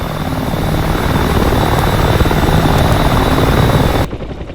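Mi-28 attack helicopter in the DCS flight simulator, its rotor and engine making a loud, dense, steady thrum that holds for about four seconds before cutting off abruptly.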